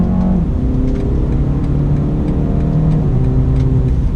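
A 2019 BMW 330i engine pulls hard under throttle in sport mode, its steady, loud drone rising in pitch over about four seconds with a brief dip around an upshift, heard from inside the car with no talk.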